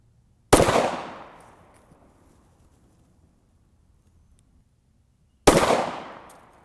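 Two loud, sharp Glock 43 pistol shots fired at targets, about five seconds apart, each followed by a decaying echo, with quiet between them and no talk.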